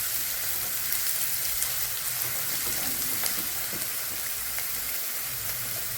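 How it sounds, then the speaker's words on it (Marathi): Chopped onion with cumin sizzles steadily in a hot pan, a dense continuous crackle that holds close and even throughout. "तळून घेऊ आपण छान कांदा"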